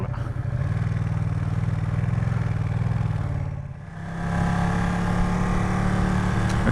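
A Ducati V2 motorcycle engine idles steadily with a low, rough rumble, dips briefly for a moment, then returns to its even idle, close and loud with no talk.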